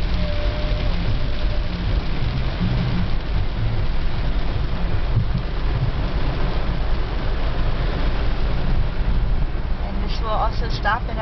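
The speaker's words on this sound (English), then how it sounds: "So there are these streams of water just shooting down from all the buildings." Heavy rain pours steadily over Cap Haitien, Haiti, with streams of water running off buildings, forming a dense, even wash of noise throughout, and voices faintly present underneath.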